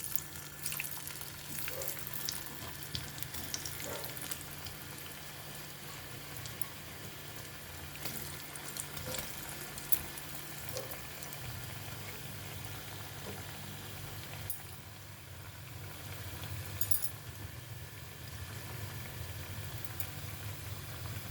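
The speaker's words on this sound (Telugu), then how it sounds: "మీడియం ఫ్లేమ్లో పెట్టుకుని వేగించుకోవాలండి." Potato pieces for Aalu 65 fry in hot oil over a medium flame, giving a steady, even sizzle that carries on without a break. Nobody speaks over it.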